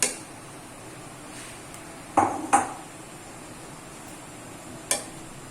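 Potatoes tumble into a pan of fried masala for chicken biryani, giving a few sharp metallic knocks and clatters over a faint steady sizzle, with one more clink near the end.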